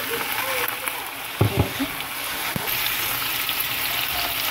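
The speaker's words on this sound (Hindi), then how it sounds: "हम इसके अंदर चिकन डालेंगे।" Chicken goes into a hot pan for palak chicken, a wedding dish, setting off a broad, steady frying hiss with a few dull thumps and crackles as pieces land and settle.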